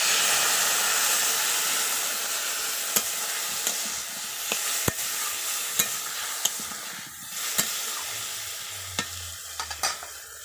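Mustard paste fries in a pan for a fish and drumstick curry, giving a loud continuous hissing sizzle with occasional sharp ticks of a spatula against the pan.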